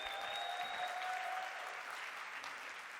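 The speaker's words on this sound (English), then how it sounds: "Give yourself a big round of applause for me" Large convention hall audience claps in steady, dense applause with a faint whistle early on, sustained at an even level and heard without speech over it.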